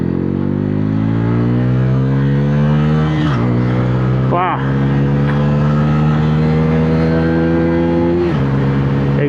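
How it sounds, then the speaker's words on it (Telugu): A Bajaj Pulsar N160 motorcycle engine revs loudly and close, its exhaust note rising and falling through several throttle blips over a steady idle, with a voice talking faintly beneath. "ఎగ్జాస్ట్ కూడా అదిరిపోయింది."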